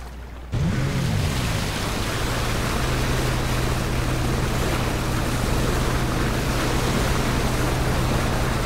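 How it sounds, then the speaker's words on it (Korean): Boat motor in PUBG, starting abruptly and droning steadily with a low engine hum under a broad wash of water and wind noise, loud and close throughout. "보트다."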